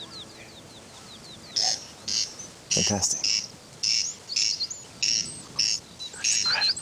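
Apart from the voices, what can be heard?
corncrake calling, echoing off walls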